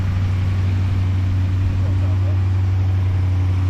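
A Dodge truck engine runs steadily at an auction yard, a loud, low, constant hum with no tapping, with faint voices and outdoor noise around it.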